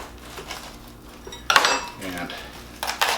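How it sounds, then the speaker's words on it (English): A small knife cuts around the core of a vegetable, giving close, soft scraping and clicking against a dish with sharper knocks near the end and no talk. "I take my small knife and just kind of go into the core and just go around it"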